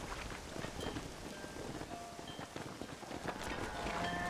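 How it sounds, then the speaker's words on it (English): A rainstorm hisses and patters steadily in the western video game Red Dead Redemption, an even wash of rain with gusts of wind, moderately loud and without voices. "It's gonna be hard shouting over this storm."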